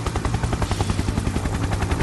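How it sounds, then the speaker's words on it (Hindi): Helicopter flying overhead during an apocalypse scene, a loud steady pulsing rotor chop beating evenly throughout, close and continuous with no voices. "आज फिर से हेलीकॉप्टर की आवाज,"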